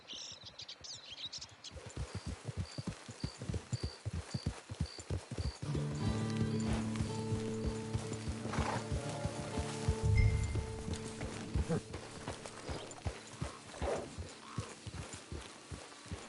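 Horse hooves clip-clop steadily on the ground in the video game Red Dead Online, a close, even walking rhythm that carries on for several seconds alongside faint ambient game sounds.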